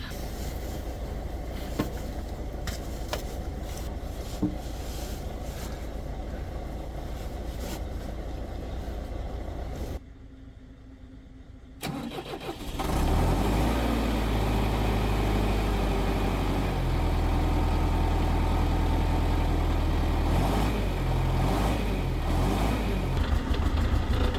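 A tractor low on fuel idles roughly nearby, falters and cuts to near silence, then restarts into a louder, steady low diesel rumble that keeps running.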